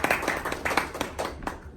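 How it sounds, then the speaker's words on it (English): Applause from a small audience at a medical talk about a psoriasis patient self-care group, heard as a short burst of loose, overlapping hand claps at moderate volume, with faint talk mixed in. "It needs an applause."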